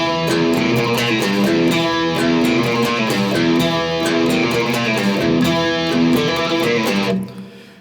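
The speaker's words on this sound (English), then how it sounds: "I've got a kind of distorted tone using a Sir Riot pedal" Heavily distorted electric guitar through a Sir Riot overdrive pedal plays the rocky intro riff, loud and continuous with chugging chords and bright upper notes, ending in a sudden cutoff and brief ring-out.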